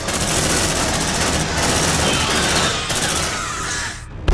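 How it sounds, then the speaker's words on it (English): Marines laying down suppressive automatic gunfire in Aliens: Dark Descent, a loud continuous fusillade of rapid rifle bursts that fills the clip before cutting off abruptly near the end. "Suppressive fire!"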